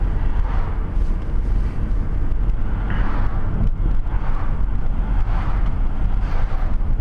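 A car drives along a road past parked vehicles during a driving lesson: steady engine and tyre rumble with wind buffeting, constant and fairly loud throughout, no voices.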